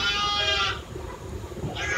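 A goat on a farm lets out a loud, drawn-out bleat close by, then a short pause before a second bleat begins, with no one talking.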